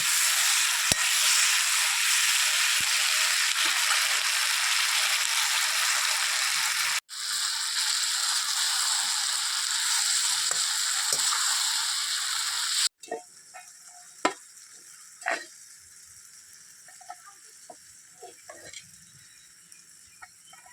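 Hot tempering oil sizzling loudly and steadily with fenugreek seeds for tomato rice, then quieter crackling with scattered sharp ticks and taps of a utensil.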